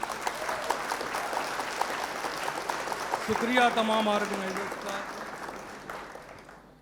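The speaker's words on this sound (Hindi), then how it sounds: "तो एक बार जोरदार तालियां अपने लिए बजाइए" A packed hall audience at the All India Mushaira 2025 at O.K.M. Inter College, Kanpur, keeps up steady applause while someone speaks over it, the clapping gradually tapering off toward the end.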